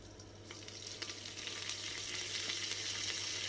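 Green chillies, crushed garlic, curry leaves and cumin fry in hot oil with a soft, steady sizzle that grows slightly fuller, broken by light stirring taps.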